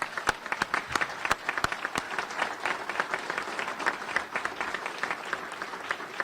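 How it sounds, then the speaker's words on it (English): An audience at a basketball coach's introduction event gives steady applause, dense clapping from a crowd with a few louder individual claps standing out, continuing evenly for several seconds. "why don't you stand up so everybody can give you a round of applause too"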